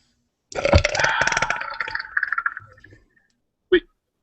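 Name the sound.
burp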